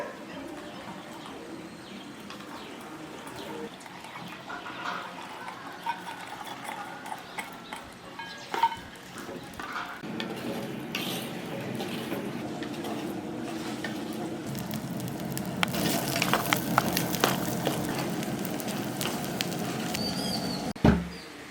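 Garlic cloves sauté in about 200 ml of hot sesame oil for a garlic pickle, starting as a quiet sizzle and building into louder, denser crackling and spitting in the second half, with occasional utensil knocks.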